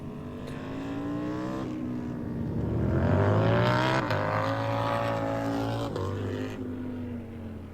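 Harley-Davidson Road Glide bagger motorcycles roar through King of the Baggers race practice at COTA in 2023. A loud, rising engine howl builds as the bikes pass, peaks, then falls away, with a second pass near the end.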